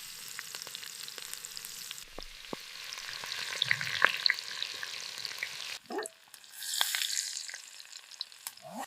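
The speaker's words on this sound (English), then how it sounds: "I stir the meat gently to cook it evenly inside the camp." Meat stirred in a pan over a fire inside a camp tent in a frozen forest, soft sizzling with scattered scrapes and clinks of the utensil, fairly quiet and close, with no talking.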